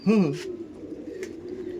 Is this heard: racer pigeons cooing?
yes